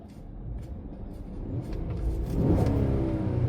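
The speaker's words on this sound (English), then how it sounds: "My truck is in park, as you can see right now, and I just want to give it gas" A Chevrolet truck sits in park while its engine is revved, a steady low rumble that builds gradually in loudness and pitch toward the end, heard close and without talk.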